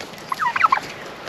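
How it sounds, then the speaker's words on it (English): Brahma chickens on a Hunter Valley farmstay give a short burst of clucking and gobble-like calls, several quick overlapping notes close by over quiet background. "These are Brahma chickens."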